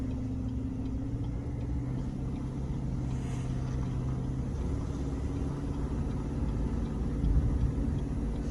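A truck engine rumbles steadily at low pitch while towing a K10, a continuous droning hum with faint road noise and no change in throttle.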